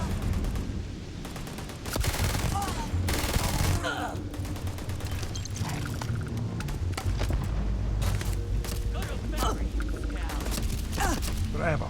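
Gunfire in Starfield crackles in dense, sustained bursts, rapid automatic fire mixed with heavier booms, loud and close throughout, with game noise layered underneath.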